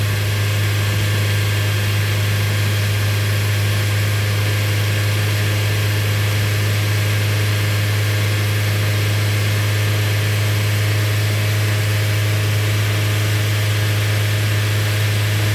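A car engine idles steadily with a constant low drone and a strong hum, close and unbroken, with no talk over it.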